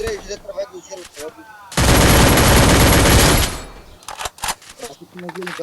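Sustained automatic gunfire in the video game Free Fire during a ranked match, one loud unbroken burst of roughly two seconds amid excited talk by players before and after.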